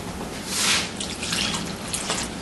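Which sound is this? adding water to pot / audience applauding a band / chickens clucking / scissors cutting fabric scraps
adding water to pot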